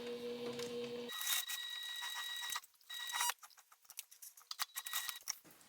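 A sewing machine stitches fabric seams with a steady mechanical whir, first as a continuous run, then a louder burst and a series of shorter start-and-stop bursts with backstitching, close and alone.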